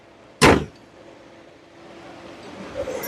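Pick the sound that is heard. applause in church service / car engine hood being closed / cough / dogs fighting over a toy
car engine hood being closed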